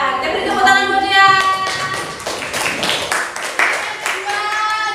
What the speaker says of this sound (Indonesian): Kita beri tepuk tangan buat Dea.